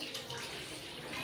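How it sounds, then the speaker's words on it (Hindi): Running tap water splashes steadily over mangoes being washed in a kitchen, close and continuous through the short moment. "सबसे पहले आम को हम लोग धो लेंगे।"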